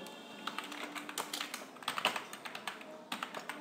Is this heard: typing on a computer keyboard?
yes